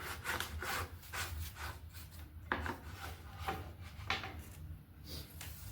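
A table saw cuts wood with an L-fence jig, heard as faint, rough rasping and scraping strokes over a low motor hum, with irregular bursts of friction noise.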